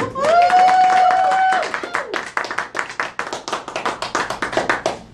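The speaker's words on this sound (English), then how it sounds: "So with rousing applause, let's welcome Chrysta to the front of the room." An audience at a Larimer County Women of the Year business event claps to welcome a speaker; after a brief opening tone, distinct individual hand claps ring out close and loud, scattered and uneven, from a small room of people.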